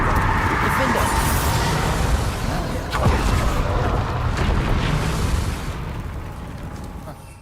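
Rumbling blasts from the Confringo blasting curse in Hogwarts Legacy, a dense, loud barrage of booms that fades toward the end, with speech running underneath.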